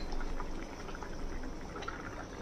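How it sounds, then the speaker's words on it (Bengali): Potato and drumstick curry boiling in an open pot, green chillies just added, gives a steady soft bubbling and simmering hiss with faint pops, close by and fairly quiet. "দিয়ে খোলা অবস্থাতেই মিনিট 2 ফুটাবো"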